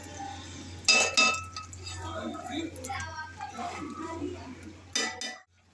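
Tomato thokku stirred in an iron kadai: a metal spoon scrapes and clanks against the pan in a few sharp knocks over a soft bubbling sizzle, with someone talking throughout.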